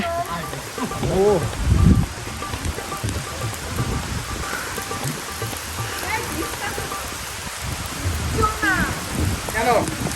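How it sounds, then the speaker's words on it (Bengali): Heavy rain pours steadily with a dense hiss, while voices talk intermittently nearby over the downpour. "দেখো বৃষ্টি পড়তেছে"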